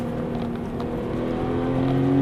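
Porsche 991 Targa 4S with all-wheel drive, driven hard with traction and stability control off; a steady engine drone with harmonic tones rising slightly in pitch as it accelerates, loud and continuous, no voices.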